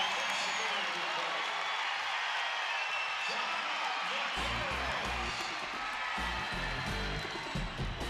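A college basketball crowd at an NMSU versus UTRGV game fills a timeout with a steady arena roar of cheering and clapping. Deeper rhythmic thumps join partway through.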